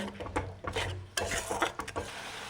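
A spoon scrapes and stirs spices and salt in a pan for chicken curry, giving close, irregular strokes with light clinks over a soft sizzle.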